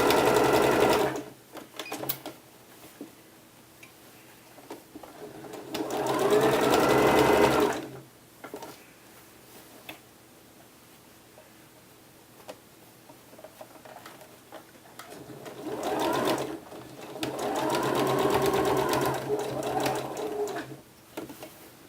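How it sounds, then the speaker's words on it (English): A sewing machine stitches along a pressed seam from the wrong side of a peasant top sleeve, running in three steady bursts separated by quiet pauses, close and moderately loud. "I'm going to be now sewing from the wrong side along that pressed seam"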